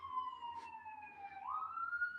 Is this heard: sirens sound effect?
yes